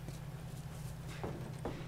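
A horse's hooves clip-clop at a walk in The Last of Us, faint, soft, uneven hoofbeats sounding over a low steady hum, with a few more distinct thuds toward the end.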